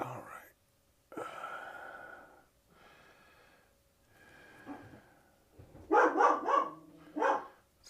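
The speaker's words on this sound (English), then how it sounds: "That's the somebody's here bark." Indoors at home, a dog lets out a few loud, close barks near the end, set off by someone arriving next door. Before the barks come quieter huffing, snorting breaths.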